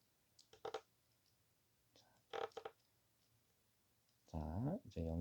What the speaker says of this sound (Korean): 꾹 눌러서 연결해줍니다